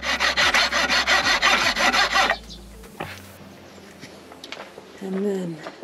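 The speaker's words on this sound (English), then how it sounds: "I make sure that my plastic scraper is sharp. This is a large file." A large file rasps across the edge of a plastic ski wax scraper in rapid, rhythmic back-and-forth strokes for about two seconds, then stops, leaving quiet handling noises and a brief voice.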